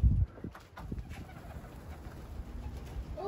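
Racing pigeons in a loft give soft, low cooing throughout, with a loud thump or flutter at the start and scattered rustling; fairly close, with no talking.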